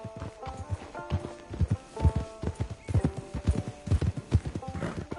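Horse hooves in Red Dead Redemption 2 clip-clop in a steady, close, loud rhythm as the animal is ridden, with a brief whinny mixed among the hoofbeats.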